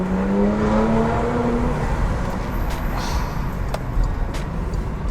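A 2024 Porsche Macan GTS with its 2.9-liter V6 accelerates hard on the road, a loud, steady engine drone rising in pitch from inside the cabin with road rumble beneath it.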